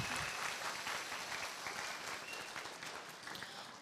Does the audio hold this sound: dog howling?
no